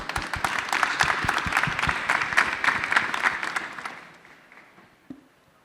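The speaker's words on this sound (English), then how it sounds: "Please welcome Sandra. Round of applause." Audience applause welcomes Sandra as she takes the stage at the Reset Connect London 2025 Pitch & Invest grand finale. The dense clapping is fairly close and steady, then thins out and fades after about four seconds.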